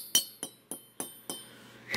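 Small metal computer heat sinks clink together in five sharp, bright taps spaced about a quarter second apart, close and clear with no talking.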